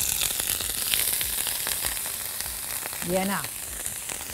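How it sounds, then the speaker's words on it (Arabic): Garlic frying in a pan for a fish tagine gives a loud, steady sizzle throughout, with a brief spoken phrase rising over it partway through. "التوم ده انا هحمره، هديله تحميره شويه صغيرين"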